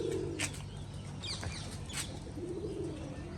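Pigeons coo softly nearby in a yard with water and soft soil, with a couple of brief wing flaps among the low calls.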